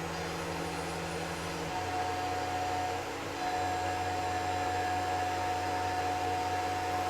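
Tormach PCNC 1100 CNC mill cutting with a quarter-inch three-flute end mill at 5,140 RPM, a steady droning whine with a constant machine hum and a brief dip midway.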